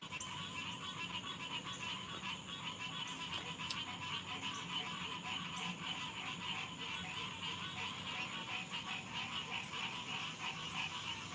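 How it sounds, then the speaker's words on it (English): Frogs croak continuously outdoors in the woods, a dense chorus of rhythmic calls with insects buzzing faintly in the background. There is no talking. "You guys pissed off the frogs."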